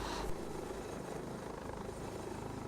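Lynx AH7 helicopter flying in the FlightGear flight simulator, with a steady, rapid rotor chop and engine whine that stays constant and moderately loud throughout, no talking.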